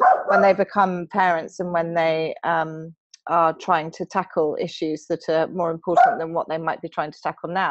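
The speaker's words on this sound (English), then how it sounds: "excuse my dog in the background" A dog barks intermittently in the background of a home while a person talks continuously in the foreground, the barks partly masked by the speech.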